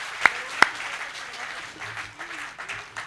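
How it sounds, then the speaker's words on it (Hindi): An audience at a Hindi poetry recital breaks into applause, opening with two sharp claps and settling into a brief, steady wash of clapping. "हाथ खड़े करके एक बार तालियां बजाए सारा सदन"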